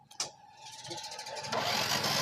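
A Honda Dream Yoga motorcycle with a CDI problem and weak battery current has its electric self-starter pressed, giving a steady whirring crank that turns harsher and louder partway through, close up, with voices nearby.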